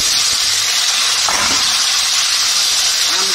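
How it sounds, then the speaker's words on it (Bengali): Mango pieces frying in mustard oil with panch phoron and dried red chillies in a kadai, a loud continuous hiss and sizzle, close up, with a brief stir partway through. "আমটা দিয়ে ভালো করে একটু ভাজতে হবে।"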